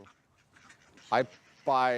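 Ducks on a small farm flock of about forty-two give two loud, close quacks in quick succession over faint background murmur.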